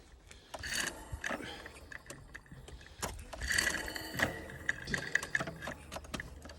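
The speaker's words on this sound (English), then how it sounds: "you'll see it shifted into a lesser gear. But it's kind of working." A homemade chain-driven tree-climbing trap mechanism shifts gears, giving off close, irregular metallic clicks, ticks and short rattling whirs in uneven bursts.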